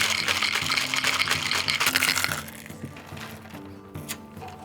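Ice rattling hard inside a sealed cocktail shaker while a Halloween drink is mixed, a dense rapid churn that fills the first half and then drops away to quieter clinks.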